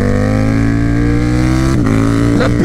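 A KTM Superduke 1290R motorcycle engine roars close and loud, holding a high steady rev with strong harmonic whine before the pitch drops and climbs again near the end.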